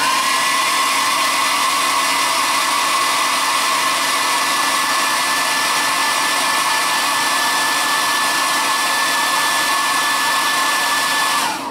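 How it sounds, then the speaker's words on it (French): A hair dryer blows steadily and loudly from start to finish, a constant whooshing whine with no pauses, cutting off abruptly at the end. "Je vais mettre un petit coup de sèche-cheveux vite fait là sur le côté."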